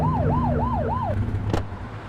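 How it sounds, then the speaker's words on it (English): Police car siren in The Precinct blipped in four quick rising-falling whoops over a low engine hum, ending with a short sharp burst, close and loud, no speech. "Get on their tail and blip the siren."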